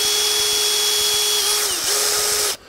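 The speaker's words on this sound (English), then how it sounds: "Using the drill," A power drill runs loud and close in one long, steady whine while driving screws into a UPVC door hinge, dipping briefly in pitch under load before it cuts off abruptly.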